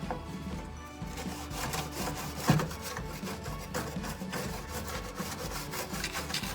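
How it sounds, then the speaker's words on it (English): Grout brush scrubbing a greasy kitchen oven hood vent, a close, rhythmic rasping of repeated strokes with one sharper knock partway through. "Alright, I'm going to use my grout brush."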